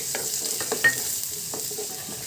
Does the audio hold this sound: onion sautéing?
yes